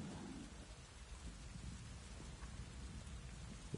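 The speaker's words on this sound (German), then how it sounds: "Es regnet gerade" Steady heavy rain with low rumbling falls in a stormy weather scene in the video game Avatar: Frontiers of Pandora, a continuous dense wash of sound with no pauses.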